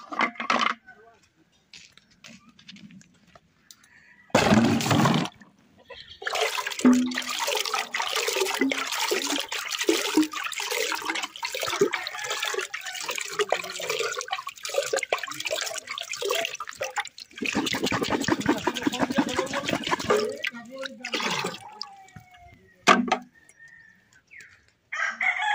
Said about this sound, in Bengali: এবার মশলাকে ভালোভাবে ধুয়ে নেব।